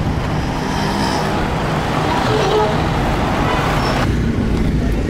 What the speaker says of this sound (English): Crazy traffic on the roads of Pakistan, especially here in Karachi.